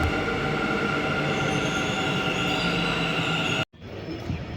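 A passenger train travels from Yesvantpur toward Mangalore, its steady, loud rolling rumble and wheel noise filling the cabin, then cutting out briefly near the end before resuming.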